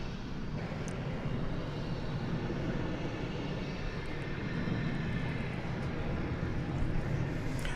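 Jet engines of an MD-11 airliner at Dallas/Fort Worth airport at night, a steady broad roar and whine heard from a distance, continuous and unchanging, with no voices over it.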